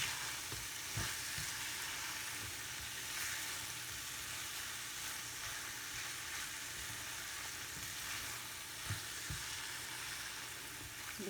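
Masala corn and sweet potato sizzle steadily in vinegar as it cooks off, a continuous broadband frying hiss with a few soft clicks of stirring, close and even throughout with no talk.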